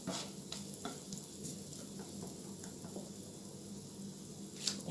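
Curry paste gently frying in a pot for a Jamaican curried chicken, a steady low sizzle with occasional soft stirring scrapes, close and fairly quiet, no voices.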